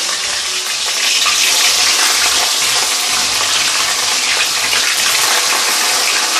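Prawns frying in hot oil at about 150 degrees, a loud, steady hiss of sizzling and splattering close up, continuous for several seconds with no talking.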